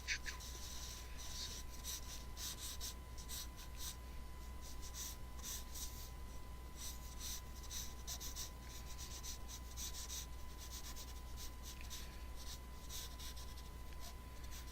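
Pencil or charcoal scratches across paper in a sculpture class: quiet, continuous scratchy strokes in short bursts, over a steady electrical hum and a faint constant tone, with no talking.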